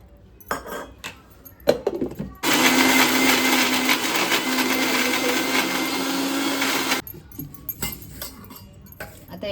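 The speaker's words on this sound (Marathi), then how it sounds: "मिक्सरचं भांडं आहे आता ह्याला ना मी बारीक करून घ्यायचं" A kitchen mixer grinder blends crab masala with water, switching on abruptly into a loud, steady whirring roar for about five seconds, framed by clinks and clatters of the jar and utensils before and after.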